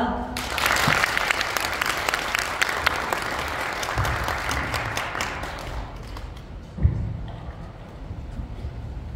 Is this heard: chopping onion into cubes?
no